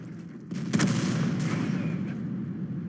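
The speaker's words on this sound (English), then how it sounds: "that Churchill 7 is using the derp gun" A Churchill 7 tank firing its derp gun in World of Tanks, heard as one heavy, booming shot followed by a long rumbling decay within ongoing battle noise.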